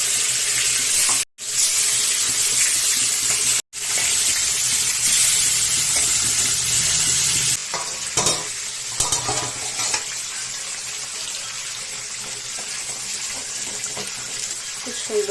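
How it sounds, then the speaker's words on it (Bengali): Fish frying in a pan gives a loud, continuous sizzle that cuts out twice for a moment. It turns rougher and clattery later, with a few stirring knocks and some watery noise. "এর জন্য যে মাছ ভাজা বসাই দিলাম।"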